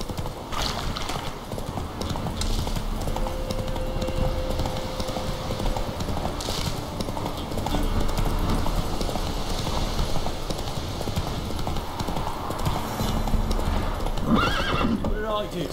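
In a video game, a horse's hooves clip-clop in a steady rhythm while the horse neighs and whinnies, with a character's voice speaking over parts of it and game sounds around.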